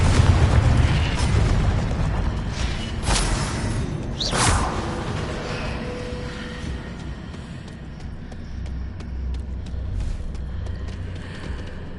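Hogwarts Legacy spells going off in combat, with heavy booms and whooshing bursts over a rumbling low background and a couple of sharp cracks early on, continuing in rapid succession.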